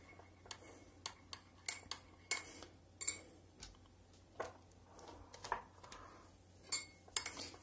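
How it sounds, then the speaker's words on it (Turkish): A spoon stirs almond oil and hair ampoule mixture in a small bowl, producing quiet, irregular clinks and taps of metal against the dish, repeated throughout at close range. "Ve iyice karıştırıyorum."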